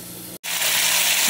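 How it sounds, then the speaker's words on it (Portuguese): Meat drops into a small pot of golden fried onions and erupts into loud, continuous sizzling and frying after a brief silent gap. "Agora eu vou tacar a carne aqui dentro"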